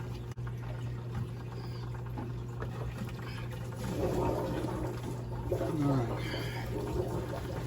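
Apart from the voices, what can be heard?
Fluval FX5 canister filter filling with water as valves open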